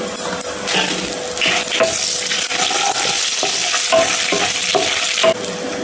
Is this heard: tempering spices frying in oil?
yes